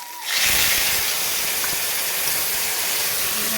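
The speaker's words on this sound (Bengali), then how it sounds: "এখন আমি একটু বাটি ধোয়া জলটা একটু দিয়ে দেবো।" Bowl-rinsing water poured into a hot pan of fried peanut-mustard paste sets off a sudden loud burst of hissing steam after a short quiet moment, then a steady, close sizzle with no talking.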